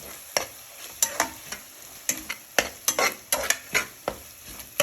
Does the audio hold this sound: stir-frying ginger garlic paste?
yes